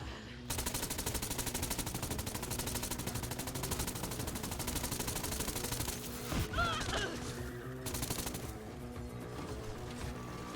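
Rapid, dense gunfire from the Borderlands 3 video game, a continuous loud stream of shots lasting several seconds with a brief burst of impact noise partway through, with no talking.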